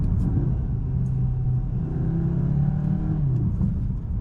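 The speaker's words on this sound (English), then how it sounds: "the gear changes, because it's dual clutch, are nice and quick" A 2023 Cupra Leon Estate with a dual-clutch gearbox drones steadily from inside the cabin, its engine note rising and then dropping quickly as gears change.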